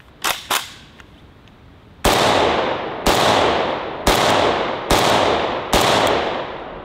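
Two quick light cracks, then five loud, evenly spaced shots from an AK Kalashnikov rifle, each with a sharp report and a long echoing tail outdoors.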